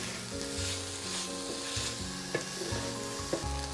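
Tofu scramble frying in a pan, a steady close sizzle with a few soft clicks of stirring, and no voices over it.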